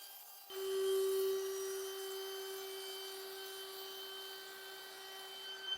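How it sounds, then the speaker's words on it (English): A handheld router fitted with a flush trim bit trims the edges of wood veneer, starting abruptly with a steady, loud whine that holds near and alone throughout. "To trim the edges, I used a router with a flush trim bit."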